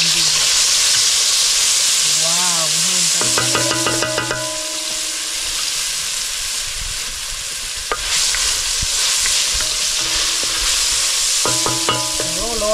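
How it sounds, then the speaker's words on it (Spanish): Garlic frying in annatto oil over a wood-fired stove in the Dominican countryside, a steady bright sizzle and hiss running throughout, with short tonal melodic sounds rising over it at intervals. "Freímos el ajo con el aceite de vija."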